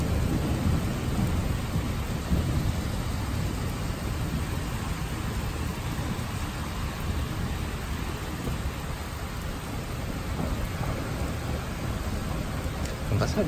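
Thunder rolls on without a break under a charged sky, a low, continuous grumbling with no distinct cracks, mixed with a steady hiss of rain.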